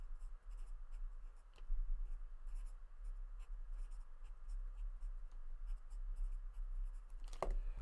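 Someone writes hockey stats down by hand with a pen on paper, making steady, close scratching strokes over a low hum, with a louder scrape near the end.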